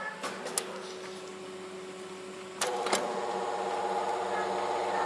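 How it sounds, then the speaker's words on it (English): A noisy gate arm motor runs with a steady mechanical hum and buzzing whine, broken by a few clicks and a clunk partway through, after which the drone grows louder and rougher. "It's coming from, it seems to be coming from the motor here."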